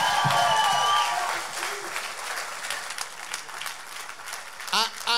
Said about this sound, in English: let's give Jesus an incredible hand clap for praise.